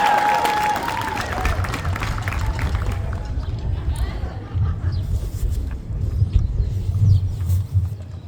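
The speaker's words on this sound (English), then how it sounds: "Give yourselves a cheer, please." A crowd at a high school band performance at Pearl Harbor cheers and claps, loud at first and then thinning into scattered clapping and murmuring with faint low rumbling.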